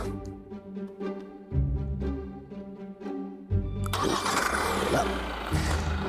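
A 2021 Hyundai Santa Fe SUV moves under remote parking control, its engine starting with a low, steady hum, then surging louder, while a brighter, noisier wash comes in toward the end.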